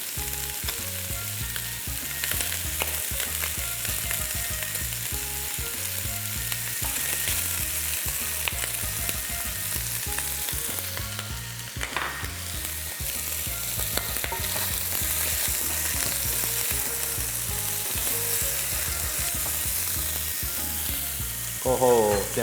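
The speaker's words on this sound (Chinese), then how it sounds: "将猪脚爆香， 将黑酱油加下去" Pork trotters stir-fried with dark soy sauce in a hot wok, loud continuous sizzling with steady rhythmic scraping and stirring, close and unbroken, no voices.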